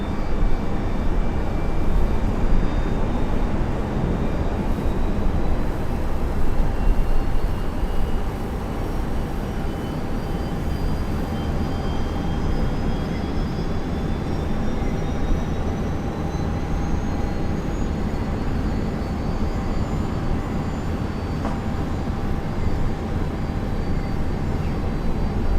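A Jetstream aircraft lands on runway 19 left at Brisbane airport, a steady distant engine whine with rising and falling tones over a low rumble that fades slightly midway.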